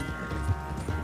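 Horse hooves clip-clopping in the Red Dead Redemption 2 video game, a few soft, low thuds at an easy gait under a steady game-ambience hum, with no talk over them.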